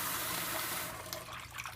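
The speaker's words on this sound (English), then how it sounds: "You swish it around because the goal is to have debris float to the top." Garden-grown lettuce being swished through plenty of water in a salad spinner bowl, a steady close watery rush that thins after a second into lighter sloshing and splashes.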